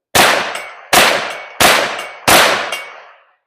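Bear Creek BC-202 .22 WMR rifle firing four sharp, loud reports spaced under a second apart, each with a ringing decay, the last two close enough to form a quick double.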